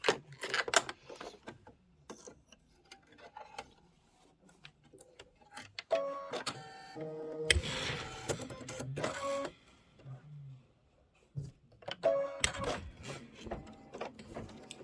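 Computerized embroidery machine stitching page detail on a storybook pocket pillow project with light gray thread: rapid mechanical chattering and whirring in bursts, separated by brief pauses and clicks as the hoop moves, close and loud.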